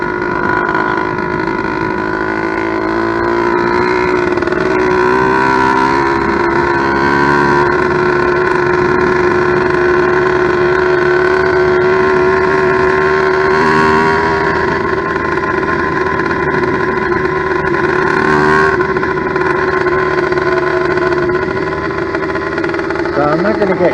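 A 100cc steel-bore motorized bicycle engine runs steadily after its first start, a continuous buzzy drone that holds near and loud throughout with slight wavers in pitch, while someone talks over it.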